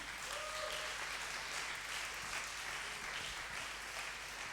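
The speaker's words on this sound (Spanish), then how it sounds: "aplauda si quiere, no le voy a retar" Steady applause from a church congregation fills the room, dense and continuous from start to finish, with a faint voice or tone briefly rising over it early on.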